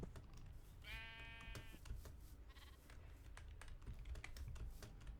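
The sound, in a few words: sheep bleating in Minecraft GregTech modpack video game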